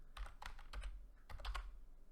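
Someone types on a computer keyboard in short bursts of quick keystrokes with brief pauses between them, close and fairly quiet over a low background hum.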